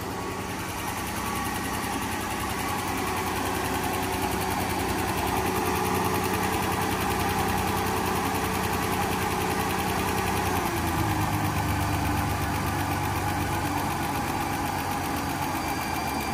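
An old Mercedes ML engine that has not run in a long time idles steadily and unevenly, a continuous low rumble with a faint rattling knock running throughout, close by and with no voices.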